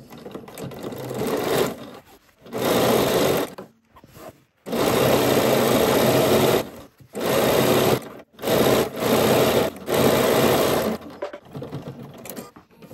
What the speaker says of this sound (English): let's sew the seam.